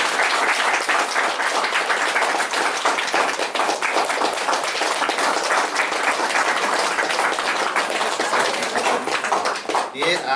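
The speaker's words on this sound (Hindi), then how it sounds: "ताली हो जाए।" Wedding guests applaud together in a steady, dense burst of clapping that stays loud and continuous throughout, with voices mixed in underneath.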